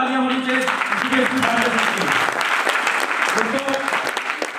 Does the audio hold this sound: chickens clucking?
no